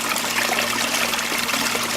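A homemade venturi valve aerating water in a desert aquaponics setup, giving a steady close trickling and bubbling wash of water with no pauses.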